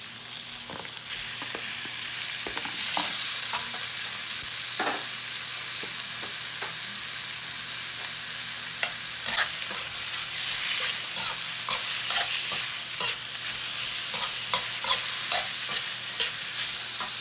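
Rice is stir-fried in a pan for binagoongan, with a continuous hiss of sizzling and scattered scrapes and taps of a spatula across the pan, close and steady throughout.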